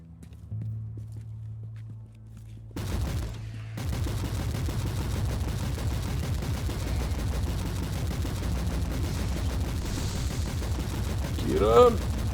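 Autocannon gunfire in Warhammer 40,000: Inquisitor – Martyr, a rapid, steady rattle of heavy shots running for several seconds after a quieter start, with other game sounds mixed in.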